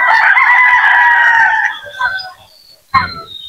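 Chickens nearby: a loud rooster crow fills the first half, followed by a few short clucks and scattered farmyard noises.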